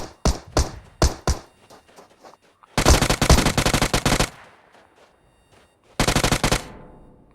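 Machine gun fire in the PUBG Mobile video game: several short, sharp bursts at the start, then a long sustained volley, and after a pause another loud burst, all close and with no talk.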